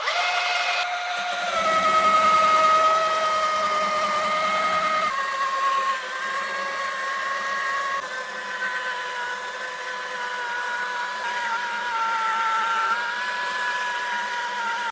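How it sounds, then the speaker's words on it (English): A belt sander with a coarse grit belt whines steadily on an electric guitar's wood, with a high, tonal motor hum and grinding rasp, continuous and close, shifting pitch slightly partway through; no talking. "using a belt sander with a real coarse grit belt on it"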